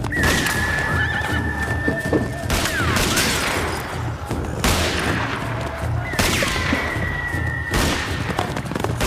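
Horses whinny loudly and shrilly twice over a dense, continuous din of hooves and rapid bursts of gunfire, with a brief voice in the chaos of a western outlaw shootout.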